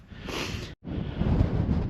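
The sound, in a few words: wind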